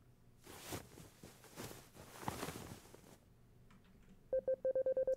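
Cell phone in a video game, first muffled thumps and rustling, then a rapid electronic ring of short repeated beeps that starts near the end, close and clear.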